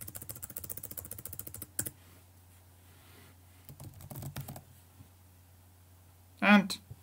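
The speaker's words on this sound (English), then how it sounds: "Just type wrong password." Rapid, close keystrokes on a computer keyboard as a password is typed, a quick burst of clicks followed by a few scattered taps and a louder thump.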